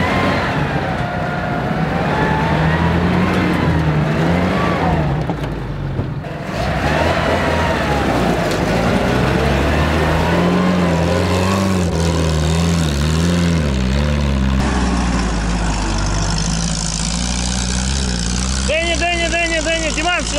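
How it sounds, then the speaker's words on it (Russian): A D1000 engine starts and runs in the background on a mountain off-road gathering, a steady droning engine hum throughout under loud nearby talk, with a sharper revving whine near the end. "на заднем плане завелся D1000"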